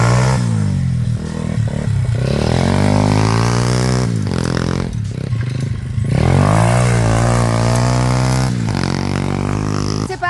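A motorcycle engine revs up and down repeatedly, loud and close, its pitch rising and falling through a full throttle run.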